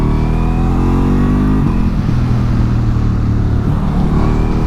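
A Ducati Multistrada V4S motorcycle accelerates hard on a test ride, its V4 engine note loud and close, climbing steadily in pitch with a brief dip as it shifts before pulling again.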